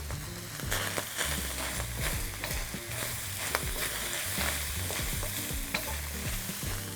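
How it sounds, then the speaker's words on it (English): Loud, steady sizzling of garlic, shallots and chili frying in hot oil, with frequent scraping and stirring clatter from a utensil against the pan. "Just let those sizzle in the oil in the pan."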